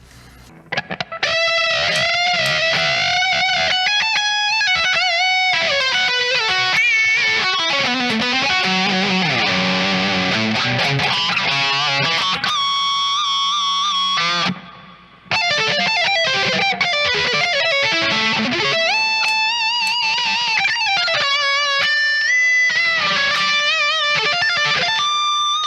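Lead lines on a GOC Materia 3.ECO seven-string electric guitar through the neck pickup, effected and slightly distorted, with sustained bends, fast runs and held notes, a brief drop to silence midway, loud and alone.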